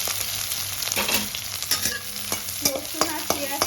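Chopped garlic and onion fry with green chillies in a pan, a steady sizzle broken by irregular scraping stirs and clinks from the spatula, close and fairly loud with no talking.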